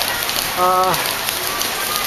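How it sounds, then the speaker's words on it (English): Heavy tropical rain falling in Indonesia, a dense, steady roar of hiss that fills the whole stretch, with a brief voice rising over it near the start. "This is how it rains in Indonesia."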